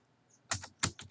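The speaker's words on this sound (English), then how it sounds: "So just go into your search box, type in Google" Keys on a computer keyboard clack in a quick run of about five close, crisp taps as a search box is filled in, after a moment of near silence.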